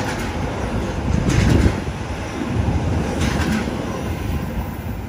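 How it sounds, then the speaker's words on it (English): A train runs through a station platform without stopping, a steady rumbling roar with a louder swell near the start and faint rattling and squeal above, continuous throughout. "the next train does not stop at this platform"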